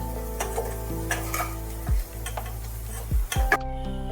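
Potatoes frying in oil in a pan until red and crispy, a steady close sizzle with scraping stirs and a few sharp utensil knocks on the pan; no one speaks.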